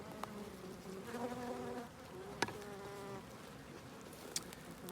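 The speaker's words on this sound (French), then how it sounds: "J'ai plein d'abeilles sur le portable." Several bees buzz close around a phone, a steady droning hum with shifting pitch as they move, plus faint clicks.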